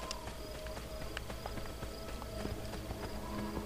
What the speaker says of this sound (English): The horse is still following me.